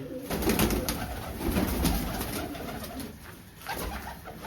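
Pigeons coo steadily in a low, murmuring chorus, close by, with a faint continuous hiss and rustling in the background.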